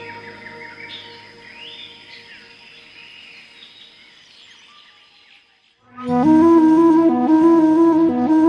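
Two sparrow chicks in a nest give thin, high, repeated chirps, moderately faint, for the first few seconds before loud music takes over.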